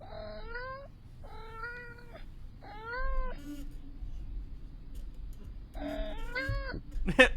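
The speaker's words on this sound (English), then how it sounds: "Happy kitten." A kitten gives several short, clear meows in a row, spaced apart and then two more near the end, close and fairly quiet against a faint low background hum.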